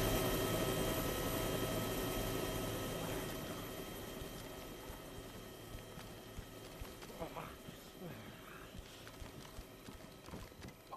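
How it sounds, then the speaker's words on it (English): A helicopter in the video game DayZ gives a loud, steady rhythmic rotor chop with engine whine that slowly fades over several seconds, with brief voices near the end. "Is that helicopter?"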